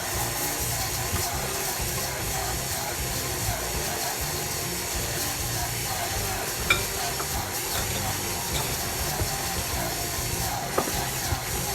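Three cups of sugar being creamed for sour cream pound cake batter make a steady, even whirring and gritty hiss that runs unbroken, with a couple of faint clicks.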